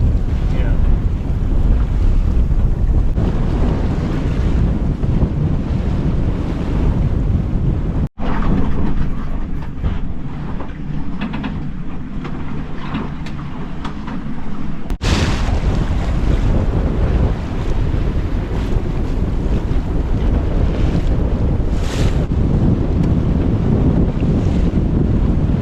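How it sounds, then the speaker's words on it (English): Strong wind buffets a sailboat out on open water, a constant loud roar of gusts and wind noise on the microphone with waves washing beneath, and faint voices mixed in. "Is the wind shifty?"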